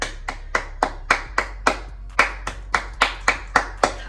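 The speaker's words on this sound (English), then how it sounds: "can we give a round of applause" Hands clap in a steady run of about fifteen sharp, close claps, evenly spaced and alone with no voices, welcoming an author during a monthly reading wrap-up.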